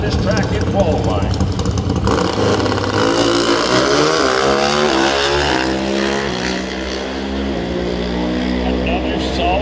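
A pro stock drag racing motorcycle makes a run at a drag strip, its engine a loud, sustained roar with rising harmonic sweeps as it accelerates down the track; an announcer talks over it throughout.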